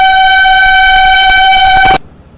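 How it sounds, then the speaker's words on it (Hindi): A passing Bihar Sampark Kranti Express overtaking another train in heavy rain sounds a loud, sustained multi-tone horn close by for about two seconds, then cuts off to quieter rumble. "ये बिहार संपर्क क्रांति एक्सप्रेस ओवरटेक करने सूबेदारगंज देहरादून एक्सप्रेस को।"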